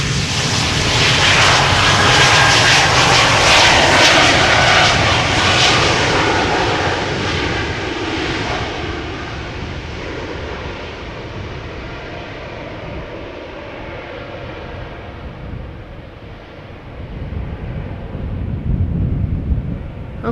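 An Embraer E2 jet departs Amsterdam Schiphol Airport with a loud, close engine roar that peaks early, then slowly fades as it climbs away, buffeted by wind noise on the microphone.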